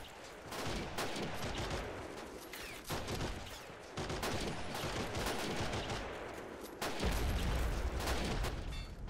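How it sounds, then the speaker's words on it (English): Continuous battlefield gunfire and artillery from a 1918 Battle of Kiev war video game, with Ukrainian guns firing on attacking Bolsheviks at a trench line. Sharp shots and booms come in dense, overlapping bursts, loud and constant throughout. "With some Ukrainian artillery back here working on the attacking Bolsheviks."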